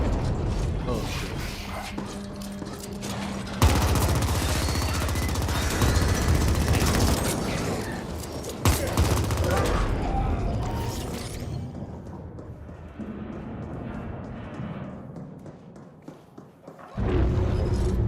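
Gunfire in the top-down shooter The Ascent, rapid mechanical bursts of shots mixed with clanking and ratcheting sounds, loud and dense, dropping to quieter ambience near the end before a final burst.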